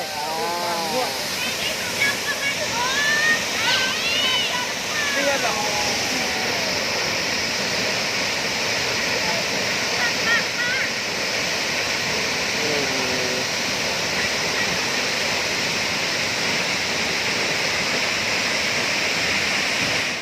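A waterfall roars loudly and without a break for twenty seconds, a dense, even wash of falling water, with voices talking over it near the start.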